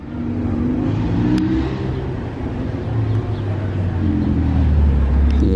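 A McLaren Senna supercar rumbles nearby, its loud, steady engine drone swelling toward the end, with no clear voices.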